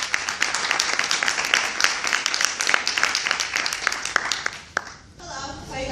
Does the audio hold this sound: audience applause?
yes